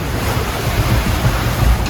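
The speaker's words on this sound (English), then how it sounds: "Seas are a little less choppy than they were before. The seas are a bit bigger perhaps, more structured, less awkward and bouncy." Ocean waves and wind rush past a sailing yacht at sea, making a loud, steady roar of surf and wind noise on the microphone with low thumps from the swell, no voices.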